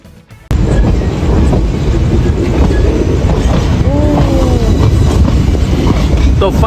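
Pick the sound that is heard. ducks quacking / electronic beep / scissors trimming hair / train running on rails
train running on rails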